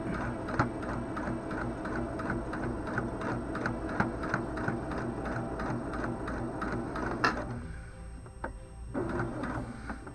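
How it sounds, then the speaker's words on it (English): A sewing machine stitching a zipper pouch runs slowly and steadily, with close, regular mechanical ticking pulses, then stops near the end, leaving a few faint clicks and handling sounds. "And I'm sewing slowly down through here."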